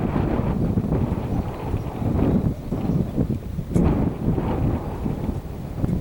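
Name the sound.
wind blowing on a windy day in a field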